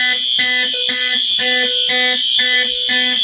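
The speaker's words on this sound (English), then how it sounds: "our final pull station, I will just key activate" A Simplex fire alarm system sounds after a pull station is key-activated, giving a loud, steady repeating pattern of tonal alarm pulses roughly every half second that fills the clip on its own.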